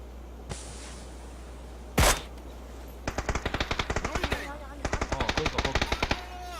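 Gunfire in the battle royale game PUBG: a single loud shot, then two rapid bursts of automatic fire, each a quick run of sharp cracks, heard fairly close with no talk over them.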